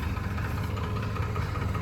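A tractor engine idles steadily beside a PTO-shaft-driven trolley made by Parampal, giving a continuous low rumble and vibration, close and even throughout with no talking.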